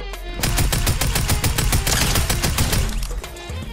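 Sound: new tactical assault rifle gunfire in Fortnite video game

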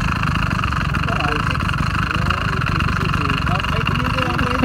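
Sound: gasoline engine on a motorized mountain bike running

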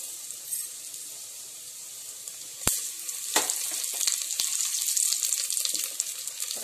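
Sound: fenugreek frying in oil in a clay pot

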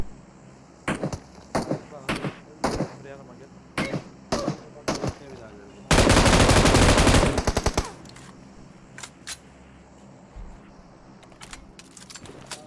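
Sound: gunfire in the video game PUBG Mobile

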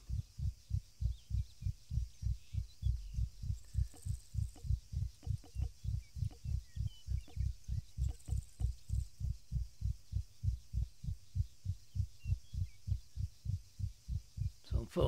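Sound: heartbeat sound effect in Arma 3 video game

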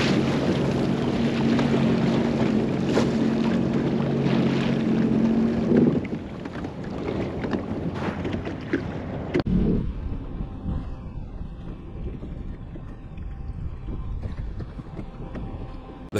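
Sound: bulk carrier ship Federal Kushiro passing in wind

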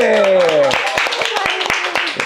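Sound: audience applause

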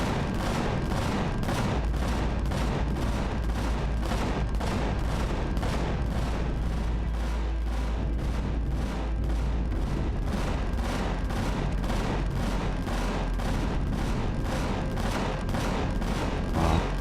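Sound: gunfire in Empyrion video game battle

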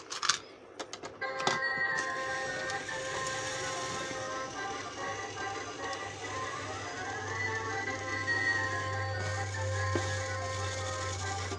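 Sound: claw machine operating

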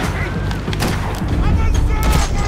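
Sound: gunshots in a video game

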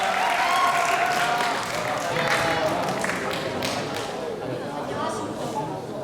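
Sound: audience applause for a student speaker

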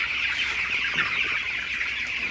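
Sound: broiler chickens clucking in a chicken house

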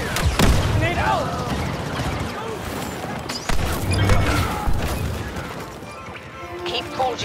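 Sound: grenade explosion in Star Wars Battlefront II video game

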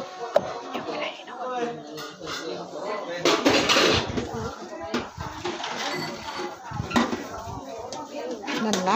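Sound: washing dishes, pots and pans in a kitchen

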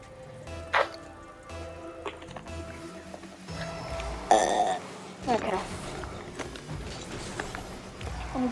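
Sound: burping

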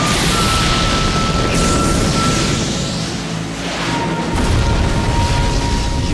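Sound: fireball jutsu explosion in Naruto Shippuden Ultimate Ninja 4 video game

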